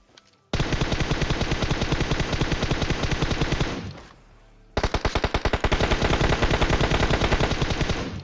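Rapid automatic gunfire in PUBG rattles in two long, loud bursts separated by a brief pause, each a fast stream of sharp shots fired from just below a hill, with no talking.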